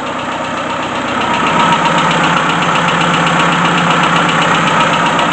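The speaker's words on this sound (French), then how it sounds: "on peut bien entendre un léger claquement moteur." A car engine idles steadily and close by, a continuous rumble with a faint, rapid ticking engine knock running through it and no voices.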